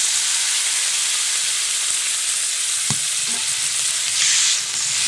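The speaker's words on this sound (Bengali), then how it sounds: "আমি এখানে কিছুটা জল দিয়ে দিচ্ছি।" Water is poured into a pan of fried bean seeds, producing a steady loud sizzle and hiss of frying and steam with a brief clink of a utensil.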